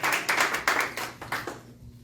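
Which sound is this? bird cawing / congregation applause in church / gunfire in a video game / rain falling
congregation applause in church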